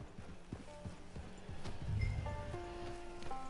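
Horse hooves clip-clopping in the video game Red Dead Online: a steady series of light, hollow hoof beats at walking pace, moderately quiet, with soft rustling and faint tonal game sounds around them.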